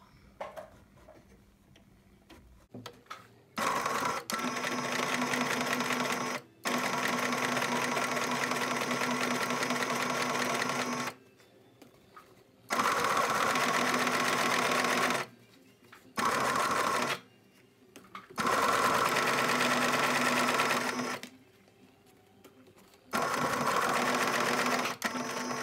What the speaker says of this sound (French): On va installer et on va coudre au point droit